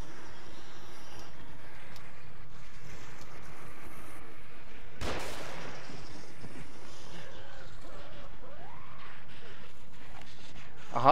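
A single sharp gunshot rings out in the horror video game The Evil Within, a brief loud burst near the middle over a low, murky game ambience.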